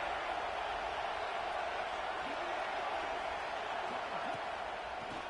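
A football stadium crowd roars in a steady, broad wash of cheering and noise from thousands of fans, continuous and distant-sounding throughout, with a commentator's voice faintly over it.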